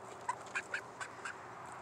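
Backyard chickens, including leghorns, cluck in a garden: a series of short, bright, separate clucks spaced about a quarter second apart, at moderate level against steady outdoor background noise, with no talking.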